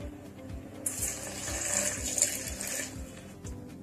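Water is poured into a mixture of chilli, coriander, cumin seeds, salt, amchur and sugar for a sauce, giving a steady, close trickling splash with a brighter rush in the middle and no talking.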